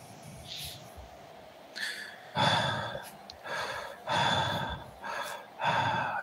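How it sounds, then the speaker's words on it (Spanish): A sharp gasp in darkness, followed by several heavy, close breaths and snorting exhalations in an irregular rhythm, quiet and intimate with no talking. "Escuchamos un jadeo en la oscuridad."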